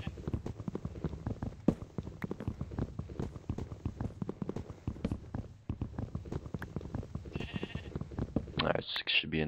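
Sheep bleating in Minecraft, scattered among busy gameplay sounds of clicking, footsteps and hitting, with a person talking throughout; a brighter burst of game noise at the end.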